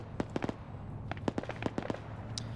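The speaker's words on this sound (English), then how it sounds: "We see the artillery continuing, though." Artillery shells burst in the Arma 3 military game during a large multiplayer PvP match, giving a rapid string of sharp, distant pops and cracks over a low rumble.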